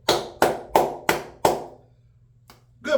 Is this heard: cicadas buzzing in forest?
no